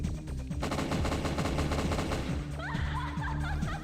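A boss fires a machine gun in Winback: Covert Operations, a loud continuous rapid burst of gunfire with steady rhythmic crackle over game music, joined by a few quick sweeping effects late on.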